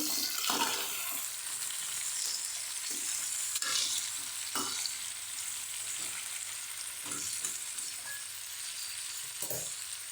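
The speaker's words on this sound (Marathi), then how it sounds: "हे सगळं मिक्स करून घ्यायचं" Aubergine curry ingredients are mixed in a frying pan, with soft scraping strokes over a continuous hissing sizzle that runs throughout.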